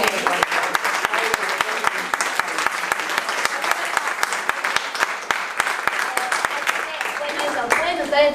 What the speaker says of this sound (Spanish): Un aplauso para la librería de la RR.